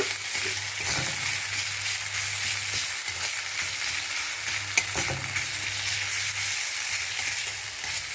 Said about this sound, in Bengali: একটু আদা বাটা আর জিরে গুঁড়ো দিয়ে দিলাম। দিয়ে একটু কষে নিয়ে